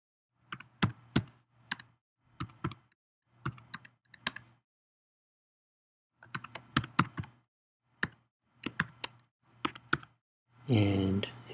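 A password is typed on a computer keyboard in several short bursts of close, crisp key clicks separated by pauses, ending in a brief louder rustle.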